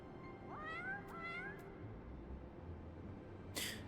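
In the Final Fantasy XIV video game, a cat gives two rising meows close together, followed by a short sharp noise burst, over a faint steady game background hum.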